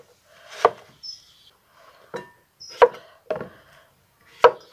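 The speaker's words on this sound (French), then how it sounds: "on va faire des tranches comme ça de courgettes niçoises" Knife slicing a Niçoise zucchini into rounds on a wooden board, giving four or five sharp, close chops at irregular intervals with a faint scrape between them, no voices.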